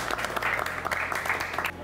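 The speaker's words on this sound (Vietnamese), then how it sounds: "Một tràng pháo tay nữa." Audience applause at a Vietnamese children's football talent show, steady clapping from a crowd running throughout with a faint voice or two underneath.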